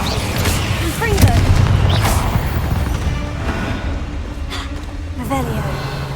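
Hogwarts Legacy gameplay with a Confringo spell cast, a booming fiery blast and whooshing impacts amid loud game effects and combat noise, with a voice talking over it.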